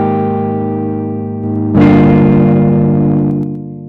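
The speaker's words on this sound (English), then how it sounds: "In the grid module, you can saturate the sound using the Saturn knob." A sustained synth tone is pushed through the RetroFX multi-effect plugin's saturation, turning suddenly brighter and grittier midway, then held loud before fading slightly at the end.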